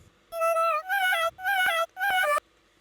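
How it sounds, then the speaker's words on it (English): Vocal chop pitched up and down with a transpose function: four clipped sung syllables in quick succession, their pitch sliding between bursts, bright and dry with hard stops between. "And from that I used the transpose function here to pitch it"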